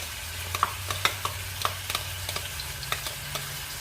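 Ginger and garlic sizzle in a stew pot for beef stew. A steady fry hiss runs under sharp, irregular stirring clinks and scrapes, fairly close, with no one talking.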